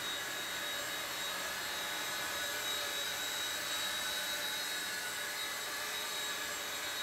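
A small T-REX 100X RC helicopter flies with a steady, high-pitched motor and rotor whine, even and unbroken, moderately near, with no voices over it.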